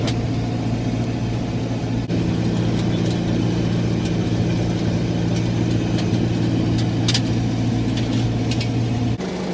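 A Fendt 311 tractor drives through a field pulling a Pegoraro blade rotor at about 5 km/h, a steady, droning engine hum heard close and unbroken, with faint higher rattles and clinks from the implement and no talk.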